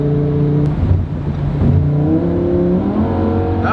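A car with a lot of work still to do on it is pushed hard while racing another driver, its engine revving up and down loudly and close by, the harmonic pitch rising in sweeps as it accelerates.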